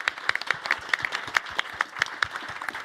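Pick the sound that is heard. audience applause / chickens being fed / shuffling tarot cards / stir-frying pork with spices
audience applause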